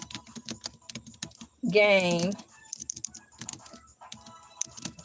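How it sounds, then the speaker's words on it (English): Someone types quickly on a computer keyboard, making bursts of light, close clicks. A voice speaks briefly in the middle, and the tapping then continues. "Now that's a whole lot of typing."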